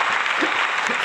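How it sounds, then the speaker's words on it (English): A short burst of audience applause during a podcast recording, dense and steady for about a second. "Let's give that a round of applause."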